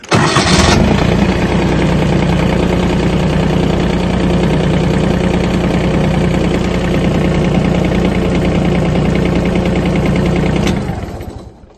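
A Farmtrac compact tractor's small diesel engine cranks and catches, then settles into a loud, steady mid-pitched idle before cutting off abruptly.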